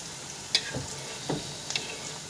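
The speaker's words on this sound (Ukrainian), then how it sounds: "Ну, а я варю далі борщ. Тушу капустку." Shredded cabbage stews in a pot for borscht, a soft, quiet sizzle with a few faint clinks and stirring taps scattered across it.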